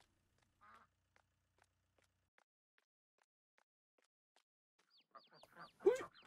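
Chicks in a henhouse in Landwirtschafts-Simulator 19, faint sparse ticks and tiny peeps at first, then a cluster of quick high chirps and squawky calls bunching together near the end, close and brief.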